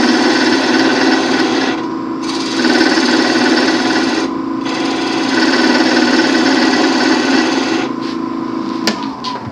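A skew chisel cutting a spinning wood workpiece on a lathe at a woodturners' club meeting, a steady, loud, buzzing hum of the cut with motor drone, briefly easing at intervals before resuming.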